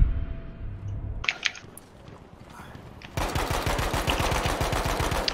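Gunfire in Battlefield V: a few quick shots crack early, then a sustained rapid automatic burst rattles loudly and evenly through the final seconds at close range.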